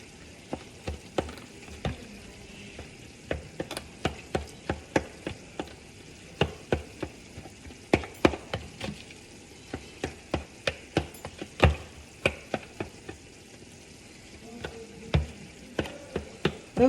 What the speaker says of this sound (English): It's a bit hard, that's why I'm cutting with my knife, or you can mash it with your hands